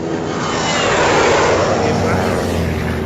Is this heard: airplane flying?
yes